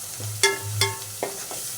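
Turmeric stirred into hot oil in a pan, with three sharp scraping strokes of the spoon over a low, steady frying sizzle, close and fairly loud with no talk.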